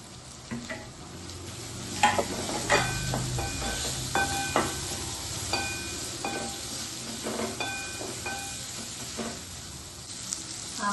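Bitter gourd sizzles steadily in a hot pan while a utensil stirs and scrapes it, with clinks and knocks against the metal recurring throughout, close and moderately loud.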